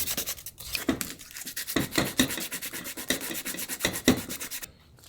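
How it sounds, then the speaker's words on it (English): Sandpaper rubbed by hand around holes in the body of a 2nd gen Toyota Tacoma, close up and alone, making a rapid run of rasping back-and-forth strokes with short pauses between bursts. "we need to prep it, so we're going to sand these down."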